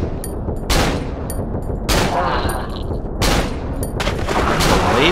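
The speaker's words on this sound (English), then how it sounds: "I'm just going to have to do well-placed headshots with the Glock" Repeated Glock pistol shots in the horror game Cry of Fear, sharp loud cracks spaced about a second apart, some in quick pairs, over faint game ambience.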